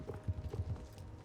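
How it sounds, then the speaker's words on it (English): Horse hooves clip-clop in the video game Star Stable Online, a quick run of soft, muffled thuds at close range with no talking. "Horses."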